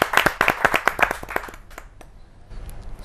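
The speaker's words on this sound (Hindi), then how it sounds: "आपकी जोरदार तालियां मिले विनय विनम्र जी" A quick run of crisp hand claps from a small audience at a kavi sammelan greets a poet, loud and close for about a second and a half before fading to scattered taps and room noise.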